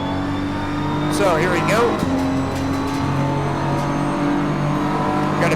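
Race car engine in the Assetto Corsa Competizione racing game, droning steadily with rising and falling revs through a final turn, while someone talks over it throughout.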